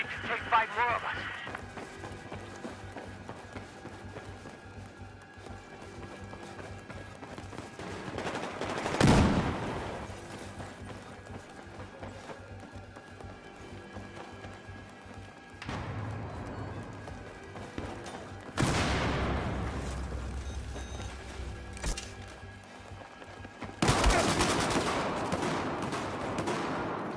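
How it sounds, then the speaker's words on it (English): Gunfire in Battlefield 4 squad team deathmatch, with bursts of shots standing out over a steady background of game noise and voices talking throughout. "Keep shooting"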